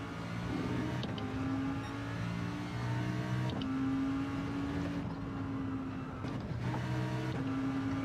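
Race car engine from Gran Turismo 7 at Blue Moon Bay Speedway, droning steadily with pitch drops and rises as it downshifts, loud and continuous with no talk over it.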